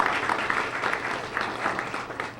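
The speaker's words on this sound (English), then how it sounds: "I really think that deserves a round of applause in and of itself" Audience applause at a tech inclusion summit, a steady patter of many hands clapping together indoors, moderately loud and sustained throughout with no voices on top.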